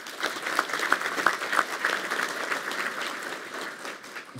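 An audience claps steadily at a university academic year inauguration ceremony, a dense crowd applause that holds for several seconds before gradually thinning.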